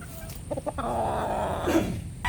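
Chickens cluck softly in a few short bursts over steady background noise, with a slightly louder call near the end.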